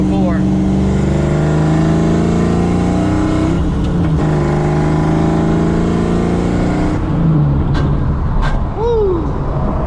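An old car engine idles and revs loudly up close, its exhaust droning with rising and falling pitch. The revving shifts and fades toward the end, and voices can be heard over it.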